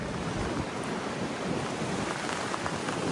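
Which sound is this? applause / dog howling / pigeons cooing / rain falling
rain falling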